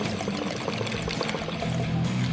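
Water bubbling and gurgling through a homemade jar bong, a steady close-up burbling wash of small bubbles that runs continuously and grows slightly louder toward the end.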